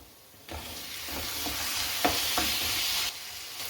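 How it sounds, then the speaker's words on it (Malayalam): Two medium chopped tomatoes hit hot frying masala for paneer butter masala, setting off a sudden loud sizzle that holds steady for a few seconds with small crackles, then cuts off abruptly. "ഒരു 2 മീഡിയം സൈസ് തക്കാളി ചോപ്പ് ചെയ്ത് വെച്ച് നമുക്കിതിലേക്ക് ആഡ് ചെയ്യാം."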